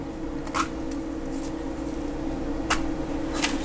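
A large sheet of nori seaweed is cut in half, giving a few brief, crisp rustling snips spread apart over a constant low room hum.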